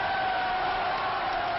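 A standing hall audience applauding after a table tennis doubles match, dense sustained clapping merged into an even wash of noise with no breaks.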